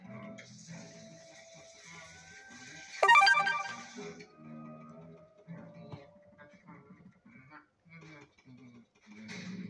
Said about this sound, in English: I just got another notification.